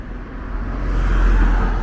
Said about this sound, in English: There's a car coming behind me. I can hear it.